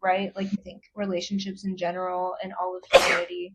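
One sharp, loud sneeze bursts out near the end, close by, after a stretch of steady talking by one person.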